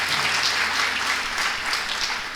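A church congregation at a Sunday service breaks into warm, dense applause for a guest speaker, steady and fairly close, filling the moment without talk.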